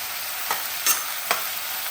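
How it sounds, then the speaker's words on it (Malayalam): Wedding-style sambar, thickened with roasted ground lentil powder and just salted, stirred in a pot: three quick scraping strokes over a steady hiss of simmering, with no one talking. "നമുക്ക് കുറച്ചുകൂടെ ഉപ്പ് ഇട്ട് കൊടുക്കാം നല്ലോണം ഇളക്കട്ടെ"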